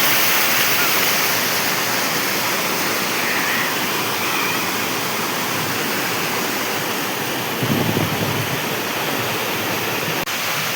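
Savat Sada waterfall in monsoon spate, a constant loud broadband rush of falling water filling the whole scene without pause, with a brief low rumble partway through.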